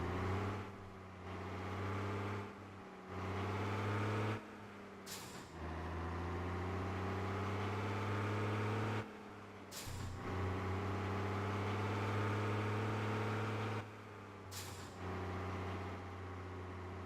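In the On The Road truck simulator, a heavy truck engine drones steadily as it is slowly throttled up, broken by several sharp hissing bursts and brief dips in the engine sound.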